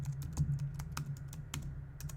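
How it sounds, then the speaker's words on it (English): A password typed on a computer keyboard, a quick run of light, close key clicks at an uneven pace over a low steady hum, with no voices. "I'm going to enter in my password"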